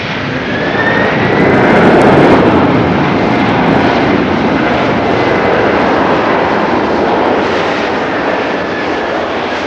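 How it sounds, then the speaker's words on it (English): An Air Blue airliner at Haneda airport roars loudly and steadily for the whole stretch, a broad jet engine rumble with a faint rising whine near the start, heard alone without talk. "Air Blue. Another one of Mike's favourite aircraft."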